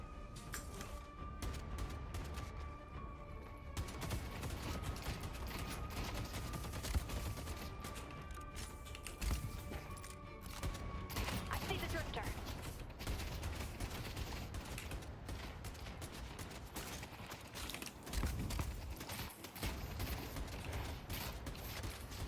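Bursts of gunfire from the shooter game Deadlock, rapid volleys and scattered shots mixed with mechanical clanks over a dense, busy background throughout.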